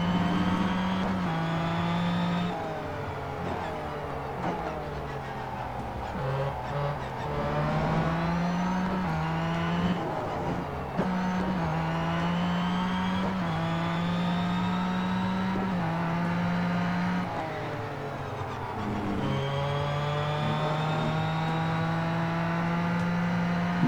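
Race car engine in the racing game Real Racing 3, a loud continuous engine drone that rises through the revs and drops back at each gear change, repeating steadily throughout without pause.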